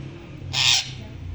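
A pet parrot imitates a crow with a single harsh, noisy caw lasting about a quarter second, loud and close over a faint low background hum.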